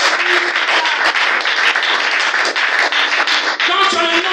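A church congregation at a French-language service applauds loudly and continuously, a dense close wash of many hands clapping with some voices mixed in.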